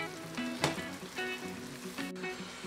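Rapana sea snails simmer in a cream and cheese sauce in a pan, a soft close sizzle and bubbling with a few scraping stirs of a utensil at intervals.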